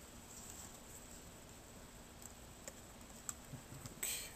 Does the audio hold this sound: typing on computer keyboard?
yes